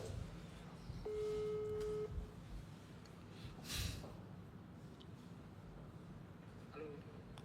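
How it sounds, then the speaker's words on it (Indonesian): A single electronic ringback tone sounds faintly for about a second amid a quiet, noisy room, with some soft background breathing and shuffling. "Nah ini telepon nih masih ringing nih"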